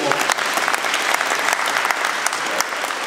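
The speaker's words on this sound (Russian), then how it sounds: "Давайте нам аплодируем ему" An audience at a business project presentation gives sustained applause, a dense, continuous patter of many hands clapping close and fairly loud, with a few sharper individual claps standing out.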